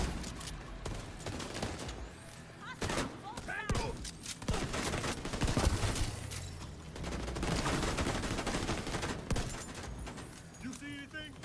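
Video game gunfire from The Division 2 during a firefight, with dense bursts of automatic weapon fire and shots crackling continuously beneath radio-style voices and game chatter.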